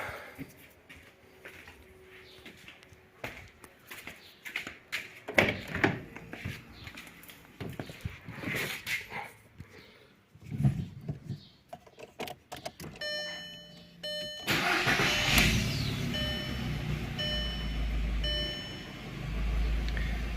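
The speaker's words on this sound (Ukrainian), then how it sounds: "І робимо запуск двигуна." A Skoda Octavia A4 Tour 1.6 engine cranks and catches after a stretch of quiet handling noises. It settles into a loud, steady idle that runs to the end, with a faint tonal chime alongside.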